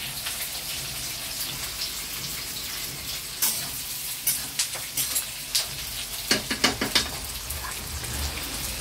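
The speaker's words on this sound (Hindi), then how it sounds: "प्याज को भून रहे हैं" Close, steady sizzle of onions frying in hot oil in a kadai, with scattered scraping and stirring clatters toward the end.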